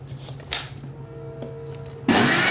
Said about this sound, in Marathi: आता थोडं पाणी वतून ना मिक्सरला लावून घ्यायचं आहे, बारीक असं एकदम